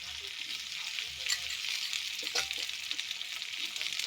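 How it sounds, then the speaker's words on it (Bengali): Onion and tomato sizzle steadily in a frying pan, with a close, continuous crackle and occasional stirring scrapes throughout. "পেঁয়াজটা একটু ভাজা ভাজা হয়ে গেছে।"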